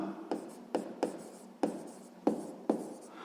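A pen writing numbers on paper: short scratchy strokes in a quiet room, about seven distinct marks spaced unevenly, close and faint.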